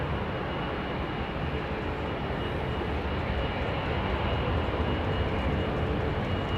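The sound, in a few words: aircraft with Pratt & Whitney engines at Heathrow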